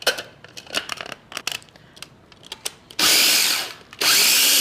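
A food processor grinding mint leaves with salt and pepper, preceded by scattered clicks and clatter of handling, then two loud, dense whirring bursts of the blade spinning, each roughly a second long and close by.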